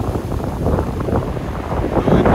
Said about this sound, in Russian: Дует ветер, идет моросящий дождь.